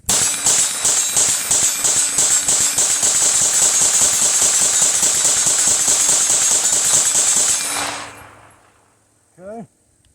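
Kriss Vector firing a full magazine from Glock mags in a long rapid burst of loud, evenly spaced shots for about eight seconds, then stopping, followed by a short voice.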